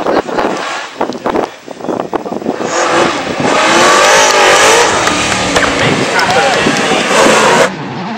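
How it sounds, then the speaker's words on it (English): A 5-litre Vauxhall Chevrolet Firenze Can-Am race car revs hard at a damp sprint event on the Isle of Wight, loud engine roar climbing and holding before cutting off, with a voice talking over it. "this 5-litre monster struggled to get the power down in the damp conditions"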